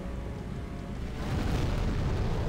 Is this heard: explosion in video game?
yes